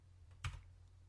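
A single backspace key press on a computer keyboard gives one quiet, short click against a faint room hum, with no other sound around it.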